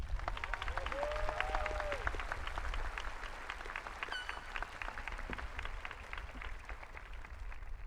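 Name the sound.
audience applause at graduation ceremony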